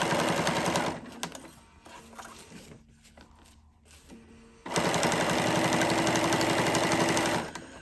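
A sewing machine stitches a very thick, heavy seam on a mermaid tail, running loud and fast in a steady whirring burst, pausing for several seconds of quieter fabric handling, then running again loud and close.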